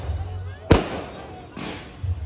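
Fireworks go off in the night sky over a town plaza during a Christmas celebration in Laguna, with one sharp close bang followed by a softer second burst over a low crowd hum.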